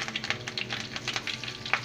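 Curry leaves and broken red chillies crackle as they fry in oil, with a pan being stirred for peanut chutney. The sizzle is steady and close, with sharp pops and scraping stir strokes and no talking.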